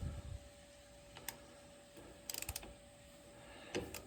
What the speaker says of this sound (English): So we're going to loosen this up using this ratchet and socket.